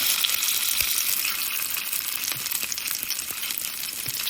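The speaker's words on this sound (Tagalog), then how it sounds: "While the chicken sausage is cooking" Apple maple chicken sausage sizzles and fries in a pan, a continuous crackling hiss with a few sharp pops and light clinks scattered through it.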